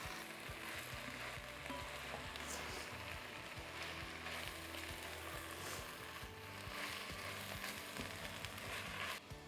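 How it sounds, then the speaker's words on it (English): Spinach wilting in a hot pan for palak paneer gives a soft, steady sizzle and crackle that holds at an even low level throughout, with no one talking. "Cook this for a minute or two until the spinach is fully wilted"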